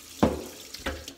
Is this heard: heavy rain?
no